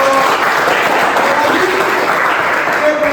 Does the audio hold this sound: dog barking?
no